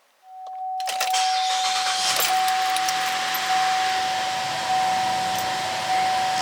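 A 2014 Buick Enclave's engine cranks and catches near a brief chime, then settles into a steady, loud idle with a constant warning tone above it; no one speaks.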